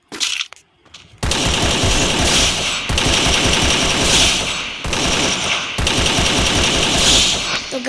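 Sustained automatic gunfire from the Free Fire video game, with rapid dense bursts running almost continuously after a brief quiet opening, loud and close with only tiny gaps between volleys.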